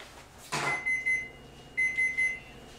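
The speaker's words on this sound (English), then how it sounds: "You go ahead and shut off this timer." A kitchen oven timer goes off while bread bakes, two bursts of three quick high electronic beeps, clear and close, with no talking.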